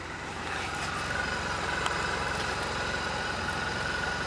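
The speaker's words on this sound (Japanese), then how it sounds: "エンジン音聞かせてもらえますか？" A 2013 Suzuki V-Strom 650XT motorcycle idles close by with a steady, even engine rumble that holds at one level throughout, with no voices over it.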